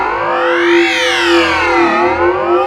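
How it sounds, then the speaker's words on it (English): A warbling psychedelic synth tone from the Serum 2 synthesizer sweeps up and then down in pitch with a steady drone underneath, drenched in large hall reverb, loud and alone. "Weird psychedelic noises."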